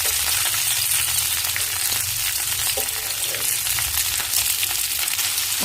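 Chopped onions and green chillies fry in hot oil in a pan for an aloo fry, giving a loud, dense, even sizzle with faint stirring scrapes underneath.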